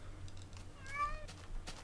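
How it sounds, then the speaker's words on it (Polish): A cat in Minecraft gives a short, clear meow, a single rising-and-falling tonal call in the middle, preceded by faint clicks and followed by a couple of light taps, fairly quiet overall. "I teraz miawczy jeszcze, tak, bezczelny"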